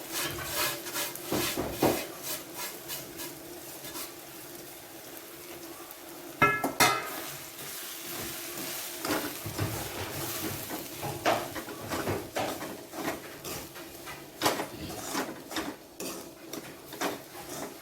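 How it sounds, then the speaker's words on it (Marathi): Semolina being stirred and sautéed in a pan for upma, with a spoon repeatedly scraping and clinking against the metal in irregular strokes, fairly soft and close, with no speech. "हा रवा भाजलेला थोडा परतून घेतला"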